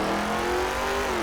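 A simfphys car engine in Gmod revs high and steady near a 9,000 RPM shift point, a loud continuous whine that holds without a break.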